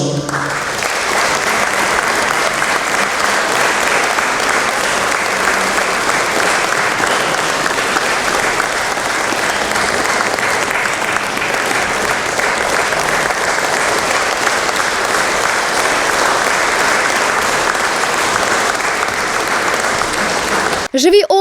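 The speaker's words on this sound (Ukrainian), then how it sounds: "оплески, які супроводжували кожне ім'я, як вдячність і обіцянка пам'ятати." An audience applauds at a memorial award ceremony where awards for fallen defenders are handed to their families, with sustained, even clapping throughout and no speech.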